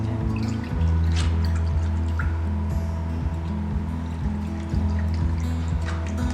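Orange paint is poured into a tub of paper pulp for handmade artisan paper, giving a continuous close trickle with wet drips and squishy liquid sounds over a low steady hum.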